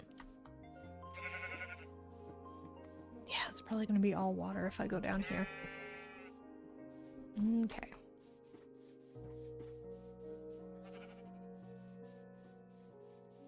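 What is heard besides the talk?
sheep bleating in Minecraft video game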